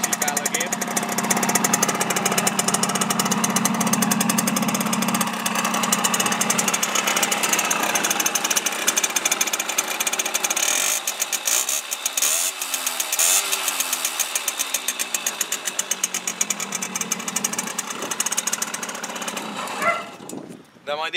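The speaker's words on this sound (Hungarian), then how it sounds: "Főtengely szivering csere után most remekül muzsikál a gép" A two-stroke Simson S51N moped engine, with a newly replaced crankshaft seal, idles steadily up close, a raspy, continuous rattling buzz that holds throughout, with a brief rev change near the end.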